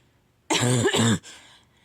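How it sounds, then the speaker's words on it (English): A single close, loud throat clearing with a rough coughing quality, about three-quarters of a second long, after a quiet room and fading into a faint tail. "Sorry, I had a cough building up."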